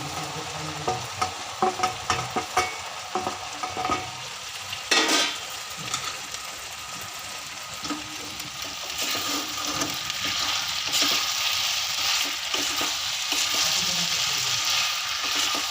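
Chicken pakoras are tossed and stirred into a sizzling chilli sauce for chilli chicken, with bursts of scraping and clatter early on giving way to a steady, bright frying hiss.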